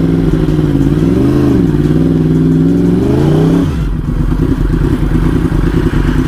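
A Yamaha R1 superbike engine revs loudly up close, its pitch rising and falling in a wavering sweep before dropping into a lower, rougher idle-like rumble.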